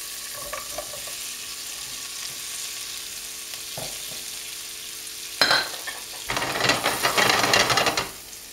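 Fresh mushrooms dropped into butter in a frying pan, with quiet clatter before a loud sizzle breaks out near the end and crackles steadily for a few seconds.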